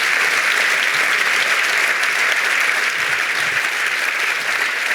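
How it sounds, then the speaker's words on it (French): Steady, dense applause from a large audience at a Vaud sports awards ceremony honouring the Lausanne boxing club as club of the year, sustained and even throughout with no talk over it. "on peut applaudir donc le club de l'année, le club lausannois de boxe."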